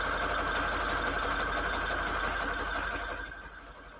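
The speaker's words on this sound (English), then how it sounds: "Maybe I'll just sew on white lace to these ones" A sewing machine runs steadily as it stitches white lace onto junk journal pages, a close, even mechanical whir that slows and fades near the end.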